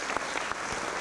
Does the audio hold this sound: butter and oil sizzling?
no